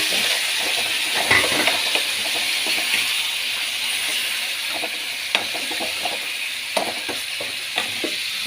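Onion, green chilli, curry leaves and a little ginger-garlic paste sizzle in hot oil in a home kitchen, a steady frying hiss broken by occasional spoon clinks and stirring scrapes.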